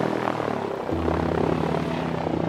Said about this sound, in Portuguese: tenho que girar o helicóptero